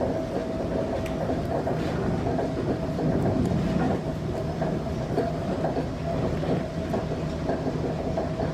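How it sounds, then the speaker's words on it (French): A metro train running, a loud continuous rumble of rail cars with faint clattering clicks through the whole stretch and no voices. "ils prennent le métro."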